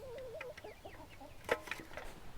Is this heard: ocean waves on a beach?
no